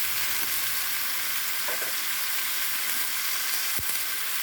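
Pumpkin frying with turmeric in a pan, a continuous close hiss and sizzle with faint stirring, no voices.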